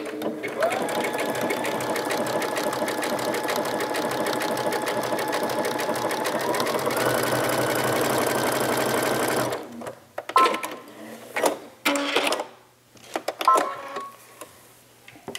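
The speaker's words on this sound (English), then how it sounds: "So when you are sewing on stretch knits" A sewing machine stitches stretch knit fabric in a fast, steady whirring run for about nine seconds. It then stops, leaving short bursts of handling noise and brief stitching.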